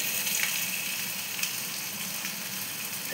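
Flat beans and ridge gourd frying in a pan with oil, a steady close sizzle with faint stirring scrapes underneath.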